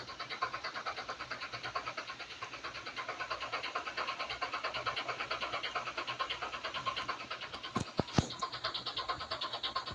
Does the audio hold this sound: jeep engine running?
yes